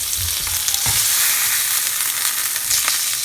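A bacon cheeseburger patty searing in a pan gives a steady, loud hiss and crackle of frying fat with small pops scattered throughout, close and without any talking.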